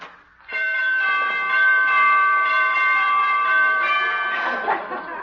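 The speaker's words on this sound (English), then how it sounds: "She must have borrowed those door chimes from Carmen Miranda." Old-time radio door chimes ring out in a long, sustained series of bright bell tones, loud and close, with a faint chuckle under them near the end.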